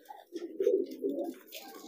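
Racing pigeon cooing in a low, throaty, rolling pattern, close by and fairly soft, with a couple of pulsing swells over under two seconds and no talking.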